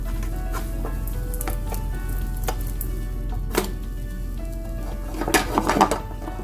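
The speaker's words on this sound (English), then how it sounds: "I'm raising the heat to brown the tortilla a bit" A tortilla with egg browns in a hot pan as part of a Frankie burrito, with a steady low sizzle plus a few soft utensil taps and scrapes near the end, heard alone.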